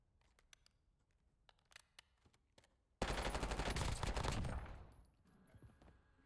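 C9 submachine gun fired on a range in the video game Black Ops 6, a sustained rapid burst of automatic fire lasting about two seconds that tails off, loud after a stretch of faint clicking.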